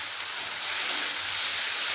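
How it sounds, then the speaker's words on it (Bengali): Tomato paste, ginger and green chilli fry in a pan with a dense, even hiss, like steady rain, close by and unbroken. "টমেটো আর আদা ভালো করে ভেজে নেব।"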